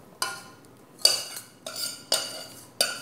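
Cooked biscuit dessert is mixed in a Pyrex glass dish, with five sharp clinks and scrapes of a utensil against the glass spaced irregularly, each trailing off into brief softer scraping, close and clear.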